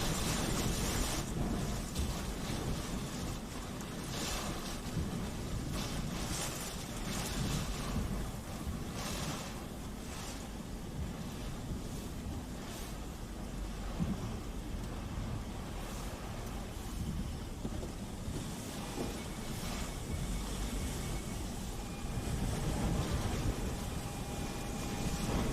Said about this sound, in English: That's some serious wind right there.